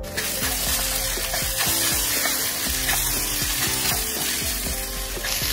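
Sabudana khichdi sautéing in a pan: a loud, steady sizzle and crackle, with regular scraping and stirring strokes against the pan throughout, heard close and alone.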